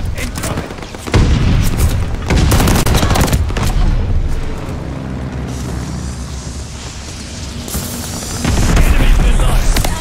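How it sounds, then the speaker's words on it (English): A bombing run in a Call of Duty Vanguard Domination match on Das Haus: heavy booming blasts and scattered gunfire roll in over several seconds, loud and close, with a final surge of explosions near the end and voices heard in between. "Allies caught a bombing run. Incoming."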